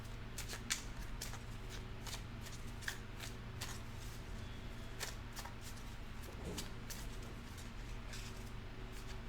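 Tarot-style life emotion cards are shuffled in a quiet room, giving repeated soft riffling and flicking bursts at a fairly steady pace, close and faint, with no talking.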